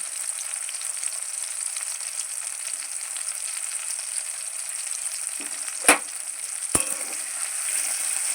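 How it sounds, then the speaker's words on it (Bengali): Chopped tomato with turmeric and cumin powder frying in a pan, giving a steady close sizzle with two sharp knocks of the spatula near the end. "টমেটোটাকে ভালো করে নেড়ে নেব"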